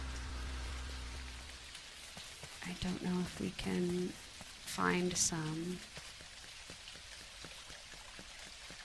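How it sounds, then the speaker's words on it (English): Rain falls in the farming video game Dinkum as a steady, even hiss throughout, with a person talking over it in the middle. "It's a beautiful rainy day"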